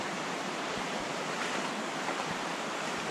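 The Dosewallips River in Washington rushes beside a forest trail, a steady, loud, unbroken wash of flowing water with no voices.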